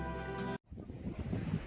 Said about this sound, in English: It looks like the waves again break right on the edge